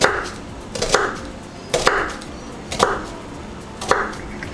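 An onion being cut with vertical strokes of a knife on a cutting board, five crisp, evenly spaced chops about one second apart, close and clear.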